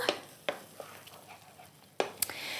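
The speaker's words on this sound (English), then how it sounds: "So this is sautéing nicely now" Food sautéing in a pan sizzles softly and steadily, broken by a few sharp clacks and scrapes from stirring.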